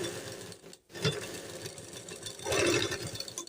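A sewing machine stitches folded kurti fabric along the upper side, a steady mechanical whir with a brief pause near the start and a louder stretch toward the end.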